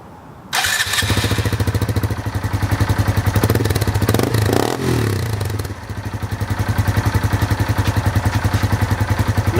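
Motorcycle engine catches with a thump and settles into a steady, even idle, close and loud, its rhythmic pulsing lasting for about nine seconds with no talking.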